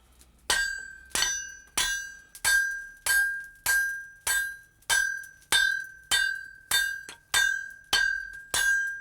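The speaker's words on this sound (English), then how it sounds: "Just hold it flat against the anvil. Yeah. And hit with the hammer." A hammer strikes a hot metal blade laid flat on an anvil, about thirteen evenly spaced, bright ringing blows at a slow, steady pace, each one close and clear, with nothing else audible.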